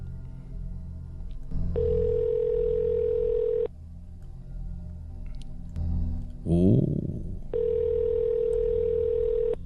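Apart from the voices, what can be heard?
Skype call ringing tone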